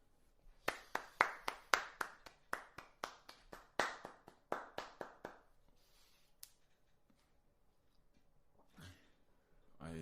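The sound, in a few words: hand clapping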